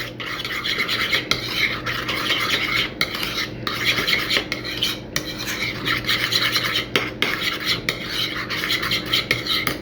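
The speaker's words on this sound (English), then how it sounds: "I'm going to stir this guy up." A spoon stirs a small bowl of sauce made with sriracha and sesame oil, giving steady scraping and rubbing against the dish, with a clink now and then. Fairly close and continuous, with no talk.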